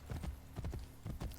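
A horse gallops in the Assassin's Creed Brotherhood video game, rapid clip-clop hoofbeats in uneven clusters, close and moderately loud, with no talk over them.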